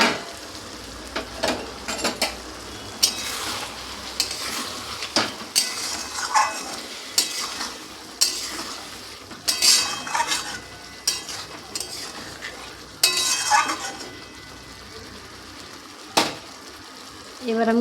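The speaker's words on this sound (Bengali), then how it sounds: "ঢাকা চাপাটা খুলে একটু নাড়াচাড়া করে নেব" Egg curry cooked with raw spices is stirred in a pan after the lid comes off: repeated scraping and clinking strokes of a utensil over a bubbling sizzle, close and uneven, with no voices.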